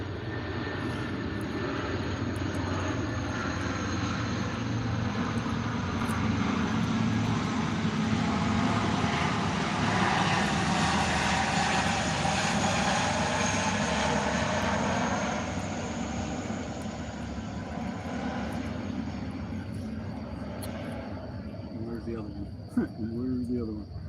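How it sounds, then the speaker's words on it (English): A C-130 cargo plane from Little Rock Air Force Base passes overhead, its deep propeller-engine roar swelling to a loud peak midway before slowly fading, with faint voices in the background. "C-130 flying over in 5, 4, 3, 2, 1."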